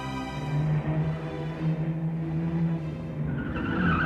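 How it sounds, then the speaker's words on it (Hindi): A car engine drones steadily nearby with a rising, revving pitch, with hints of tire noise throughout, in a TV crime drama. "गाड़ी की आवाज।"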